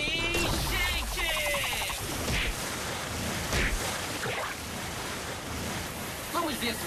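Rushing floodwater from a Ben 10 reboot cartoon, a loud, steady wash of churning water with splashy bursts, while other cartoon effects and voices briefly break through.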